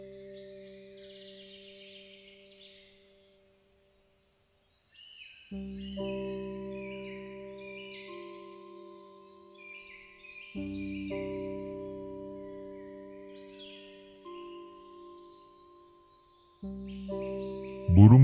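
An Anis thrush, a dark wild Indonesian bird, sings long sustained trilling notes in repeated phrases, with faint chirps between the louder passages.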